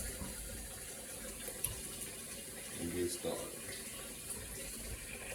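Water runs from a kitchen tap in a home kitchen during breakfast preparation, a steady faint gush with a brief swell, while a person speaks briefly over it.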